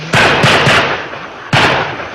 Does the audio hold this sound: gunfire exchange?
yes